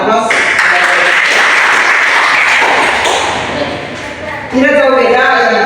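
Students in a classroom clap for a classmate's correct answer. A burst of fairly close, lively applause lasts a few seconds, fades briefly, and then a voice starts speaking over the last of it.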